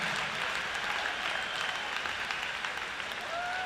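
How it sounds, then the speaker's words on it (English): Sustained applause from the crowd at a high school boys swimming and diving state finals, cheering freestyle swimmers; the clapping is continuous and moderately loud in a large space, with a faint whistle near the end. "One last big round of applause for the amazing freestyle"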